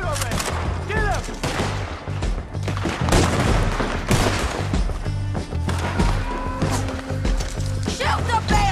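Shootout gunfire in Red Dead Redemption 2, a dense run of loud overlapping shots and booms with shouting voices mixed in throughout.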